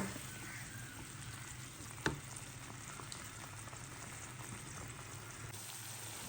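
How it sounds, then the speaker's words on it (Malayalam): Coconut milk simmers and sizzles in a pan with pearl spot fish, a steady close hiss and bubbling with one small clink partway through, and no voices. "നമുക്കിത് ആ തേങ്ങാപ്പാൽ ഇതിലേക്ക് ഒഴിച്ചു കൊടുക്കട്ടോ ഇനി ഇത് നല്ലോണം വറ്റി വരുന്നു അതൊരു അടുപ്പത്ത്"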